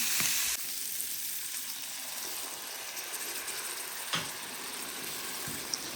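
Masala with turmeric and chili powder frying in oil in a pan, a dense, steady sizzle running throughout with a couple of faint stirring scrapes, no voices over it.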